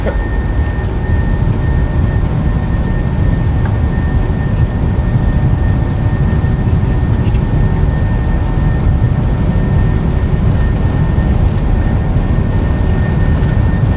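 Ryanair airliner accelerating down the runway in the Pilot Life flight simulator, a steady loud roar of engines and rolling rumble that holds constant throughout, with no voices audible over it.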